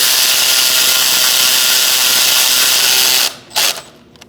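Steady rasping, grinding mechanical noise as intake manifold bolts are snugged down on a 2008-2014 Mercedes-Benz C300 3.0L V6, loud and continuous for about three seconds before cutting off into a couple of brief clicks.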